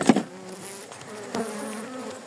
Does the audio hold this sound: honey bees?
yes